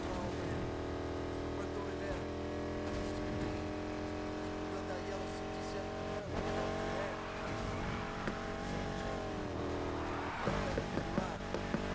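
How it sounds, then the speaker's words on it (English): A racing car engine roars continuously in the video game Need for Speed Heat, with sustained revving and shifting pitch throughout and a brief dip and surge partway through, loud and close. "I just wanted to make the engine sound a bit louder."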